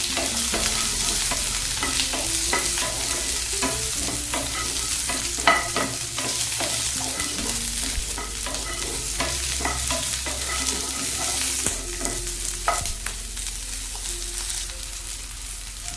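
Onions sauté in oil for a brinjal curry, with a steady close sizzle and frequent rhythmic scraping and clinking of a spatula against the pan, with no voices.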